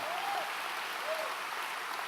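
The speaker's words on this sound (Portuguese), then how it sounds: "Pode aplaudir porque é verdade" Congregation clapping at a church service, a steady even wash of applause filling the space, with a faint voice rising briefly above it.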